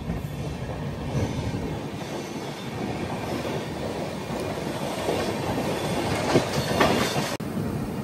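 Hamsafar Express train running on the tracks near Nagpur, a steady rumbling roar with rhythmic clickety-clack of wheels over rail joints and occasional metallic squeals, heard from inside the moving coach without talk.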